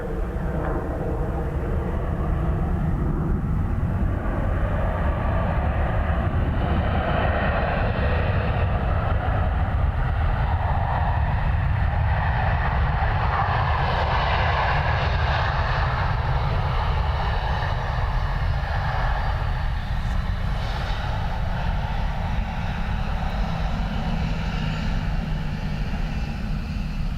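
A Ryanair airliner on approach to Dublin Airport, in low visibility, passes with a loud, sustained jet engine roar that swells and lingers, alone without talk.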